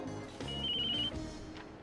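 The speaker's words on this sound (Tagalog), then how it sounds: "sagutin mo nga yung cellphone mo" A cellphone rings indoors with a short, high electronic trill over a low background hum. The ring is moderately loud and lasts under a second.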